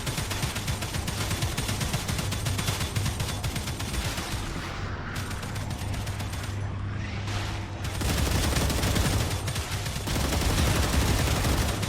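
Sustained gunfire in StarRupture, dense continuous volleys of rapid shots rolling on for the whole stretch, briefly thinning in the middle before swelling back louder and heavier.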